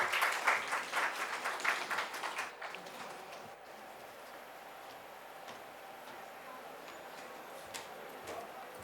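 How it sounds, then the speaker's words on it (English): An audience at a public health festival talk claps in a burst of fairly distant applause that fades after a few seconds into the quiet murmur of the room. "Please give them a big round of applause."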